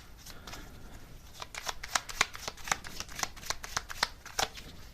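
Tarot cards being shuffled, with a rapid run of crisp riffling flicks and slaps close up, fairly quiet and alone.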